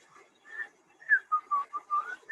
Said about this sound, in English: he's walking uphill and whistling